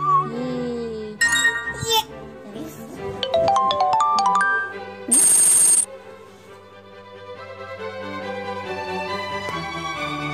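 A phone ringtone in a bubble tea filling mobile game: a bright electronic melody with chiming, tinkling notes and a burst of jingle, loud and continuous over cheerful game music, with a voice briefly present.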